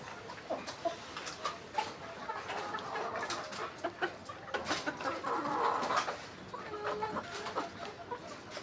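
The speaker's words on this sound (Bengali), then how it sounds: "এখানে কিছু মুরগি আছে।" Farm chickens cluck in a cage, several birds making scattered overlapping clucks and calls at moderate distance over a constant low background.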